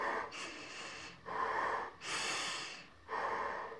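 Slow, hollow breaths drawn and pushed through a full face snorkeling mask, four distinct inhale and exhale cycles, close to the microphone and fairly quiet, with no talking.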